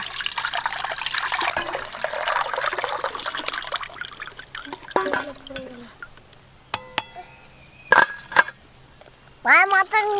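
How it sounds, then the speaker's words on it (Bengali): Lychee drink poured and strained through a kitchen strainer, a continuous trickling pour for several seconds, then drips and light clinks of glass as voices talk in between. "এবার আমি লিচি ডিঙ্ক ছেঁকে নেব।"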